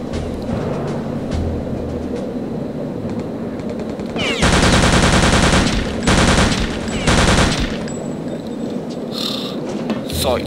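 Bursts of automatic gunfire in Return to Castle Wolfenstein, loud and close, a long volley followed by two shorter bursts over a steady rumbling background, with faint game voices around them.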